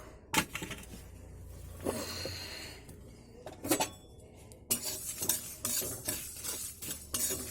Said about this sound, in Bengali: এবার আমি প্রথমে কড়াইতে জিরে ধনে শুকনো লঙ্কাটা আমি কাঠখোলায় ভেজে নেব